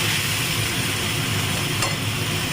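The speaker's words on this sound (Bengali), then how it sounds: "এটা আমি আবার কিছুক্ষণ কষে নেব ভালো করে।" Spices and Kashmiri chilli paste being stir-fried in a pan, producing a dense, steady sizzle with a faint scrape of stirring, loud and continuous with no talking.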